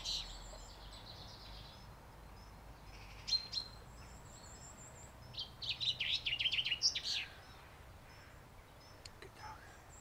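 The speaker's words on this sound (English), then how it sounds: "there is birds all around us" Small birds chirp and twitter at a distance in quiet woods, a short burst early and a busier flurry of calls midway, with soft background hiss.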